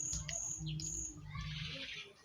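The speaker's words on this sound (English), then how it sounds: "The birds are singing." Birds singing faintly in the background during a quiet indoor meal, brief chirps and tweets over a low hum, with no talking.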